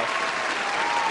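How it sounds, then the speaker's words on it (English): Steady applause from a crowd, dense and continuous clapping filling the whole stretch with no pauses. "Let me give him a round of applause."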